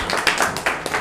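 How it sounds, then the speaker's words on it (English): Participants in a HeartMath heart-coherence class clap their hands, a short burst of several scattered, uneven claps in a quiet room. "You can clap if you want to."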